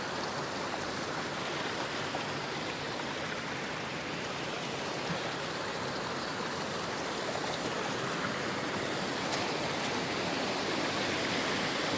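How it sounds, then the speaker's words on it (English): A waterfall at a rocky Washington State rockhounding site roars as a steady, broadband rush of falling water, continuous and fairly loud throughout with no talking. "Waterfall sounds cool."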